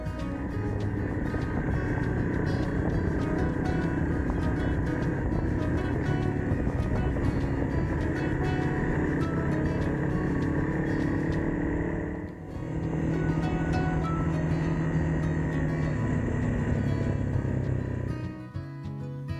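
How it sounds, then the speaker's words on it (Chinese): A Loot2 motorcycle engine running steadily on a narrow forest road after an oil change, a loud continuous drone heard up close with a brief dip midway, then resuming until it cuts off near the end. "印象最深刻的是引擎的声音，比原本没换机油的时候更安静了"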